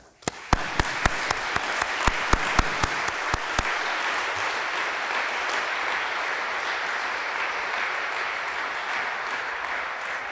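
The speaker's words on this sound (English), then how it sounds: "So please join me in a round of applause for all faculty emeriti." At a faculty convocation honoring faculty emeriti, a room breaks into sustained applause that opens with a few distinct sharp claps and then settles into a dense, even wash of clapping to the end.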